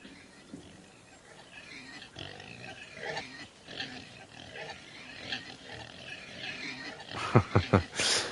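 Pigs in a farm-delivery driving game grunt and oink at close range, scattered low snorts building to a quick cluster of loud squealing grunts near the end.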